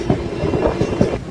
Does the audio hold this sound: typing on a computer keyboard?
no